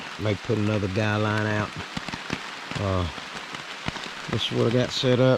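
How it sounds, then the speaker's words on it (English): Rain patters steadily on a camping tarp during a hike on the Appalachian Trail, a close, constant hiss and drip heard under someone talking throughout. "It is raining pretty good."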